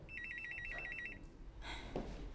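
A telephone trills with a rapid electronic warble for about a second, followed by soft rustling and handling noises in a quiet room.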